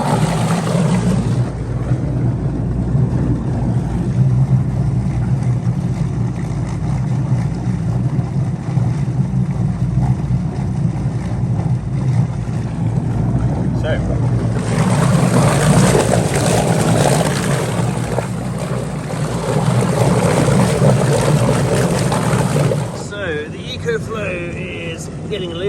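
An electric motor boat powered from an EcoFlow X-Boost supply runs steadily on the water, a continuous close hum and wash holding at an even level with a slight lift midway, with voices talking over it.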